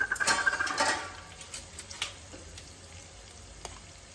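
Ginger garlic paste and turmeric being stirred into onions frying in a pan for a mutton keema curry, with soft sizzling and a few scattered clicks of a spoon against the pan, loudest at the start and then fading.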